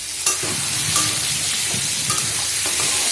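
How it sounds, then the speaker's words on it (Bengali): Potatoes and papaya fry in a pan, a steady close hiss with crackling and occasional scrapes as they are stirred, and no talking throughout. "আলু ভাজছি পেঁপে আর আলু ভাজছি"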